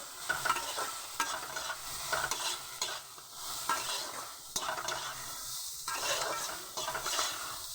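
Soybean chunks sizzle steadily in a pan with turmeric and salt while being stirred, with scraping and light clinks of the spoon against the pan, close and continuous.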